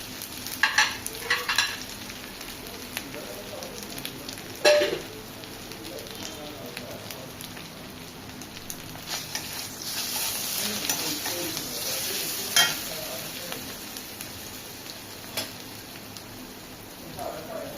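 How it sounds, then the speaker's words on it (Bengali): Spices and asafoetida fry in a small amount of oil with ginger, giving a steady close sizzle with occasional stirring scrapes and clinks for the traditional Bengali fried kalai dal. "এই মশলাগুলো লাল হয়ে ভাজা হয়ে গেছে"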